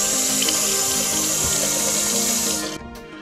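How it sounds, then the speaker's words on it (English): Water runs steadily from a new faucet at an RV sink in a 2021 Grand Design Imagine travel trailer, a continuous close hiss and splash that cuts off near the end. "to show you that we have water coming, let's show you that"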